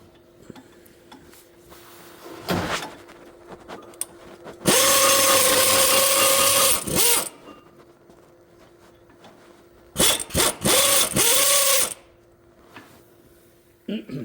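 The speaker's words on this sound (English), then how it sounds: "I'll tell you, air tools are so much easier" Air tool spinning off the brake caliper mounting bracket bolts on a FIAT front brake, two loud ratcheting bursts of a couple of seconds each, separated by quieter shop sounds and a few clicks.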